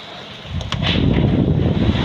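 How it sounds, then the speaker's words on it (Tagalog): Loud, roaring gusts of strong typhoon wind buffeting the microphone in Tanauan City, building up after a quieter start and staying heavy and rumbling throughout. "Sobrang lakas ng hangin."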